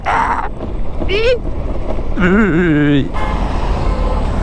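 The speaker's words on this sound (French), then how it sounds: "C'est les klaxons, c'est les bouchons partout." Busy traffic noise with engines rumbling and a wavering horn-like tone, mixed with talking voices and bursts of noise.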